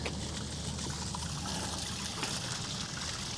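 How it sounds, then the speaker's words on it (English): A small water feature by a country railway station in Western Australia trickles softly and steadily, a faint continuous splashing with a little outdoor background noise and no voices. "Even have a little water feature going."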